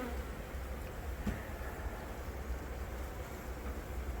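A large honeybee colony being removed from a house wall makes a dense, steady buzzing hum, faint and continuous throughout with no talking.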